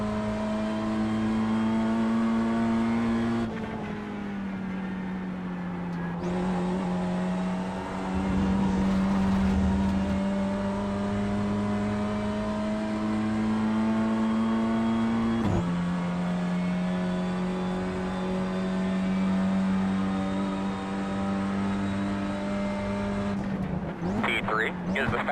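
Race car engine in the iRacing sim, a steady high-pitched drone holding near one pitch with brief dips at gear shifts, loud and continuous, with commentators talking over it throughout.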